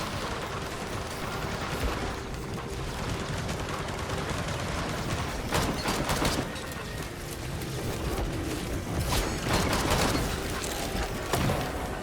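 Minigunner enemies in Risk of Rain 2 unleash dense, continuous gunfire, a loud crackling barrage layered with sharp impact bursts and game effects that runs throughout without letup.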